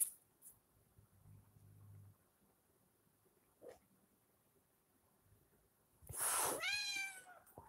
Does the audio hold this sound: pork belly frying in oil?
no